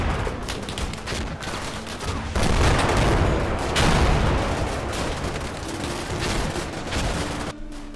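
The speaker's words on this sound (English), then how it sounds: "The British core firepower at this position comes primarily from their Bren guns." Bren light machine guns fire in a Combat Mission Final Blitzkrieg battle, loud sustained bursts of rapid gunfire mixed with heavier booms, dense and continuous throughout.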